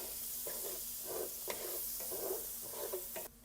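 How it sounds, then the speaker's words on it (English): Vegetables stirred in a hot pan to deglaze the browned bottom for Cajun shrimp and grits, a steady sizzle broken by repeated scraping strokes of the spoon. "add our vegetables to this pan so we can get some of that bottom deglazed"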